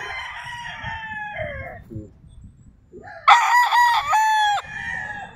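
A Full Spark Gray gamefowl rooster at a farm in Tagaytay City, heard crowing loud and close, with a shorter call first and then a full, strained cock-a-doodle-doo over faint background clucking and farm noise.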